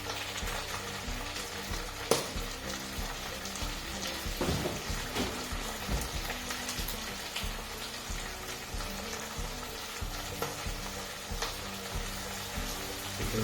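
Chilli and garlic prawns fry in a pan with a steady, quiet sizzle and soft crackle, one sharp clink partway through, with no voices.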